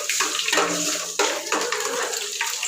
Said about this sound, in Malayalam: സവോള ഇട്ട് കൊടുക്കുന്നുണ്ട് കേട്ടോ.